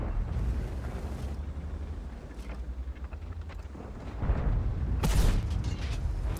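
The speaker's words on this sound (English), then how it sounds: "Of course, artillery." An artillery shell explodes in the tank battle game World of Tanks, a heavy rumbling engine bed with a loud, booming burst near the end that swells and then decays.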